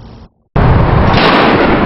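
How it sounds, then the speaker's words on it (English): Bird-scaring propane cannon near a bridge fires a single loud, close boom after a brief silence, with a long sustained rumble. "So ODOT has added 2 more cannons, 7 in all in its arsenal this year"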